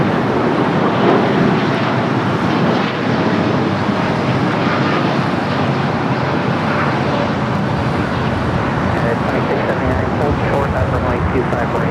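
An Aeromexico Boeing 787 Dreamliner rolls down runway 25 right at LAX, its engines a loud, continuous broadband roar heard up close alongside wind buffeting and voices talking over it.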